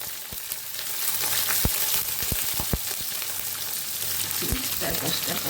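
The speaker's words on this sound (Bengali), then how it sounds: "দিয়ে দিচ্ছি পেঁয়াজ।" Chopped onion sizzles and fries in a pan for Bengali street-style ghugni, a soft, steady crackle punctuated by several sharp clicks and taps of stirring close by.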